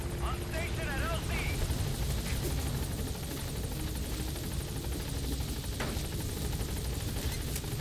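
A helicopter arrives at a landing zone in Metal Gear Solid V: The Phantom Pain, its steady rotor and engine roar filling the scene at moderate level, with radio-style voice chatter heard briefly near the start.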